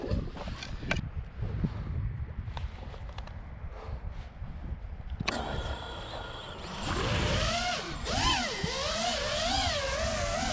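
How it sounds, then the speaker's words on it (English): Wind buffeting a microphone outdoors on a wet, gusty day during FPV freestyle drone flying, heavy low rumbling gusts that swell louder in the second half, with a whining drone motor rising and falling over it. "it's a little bit windy, so I hope you can hear me."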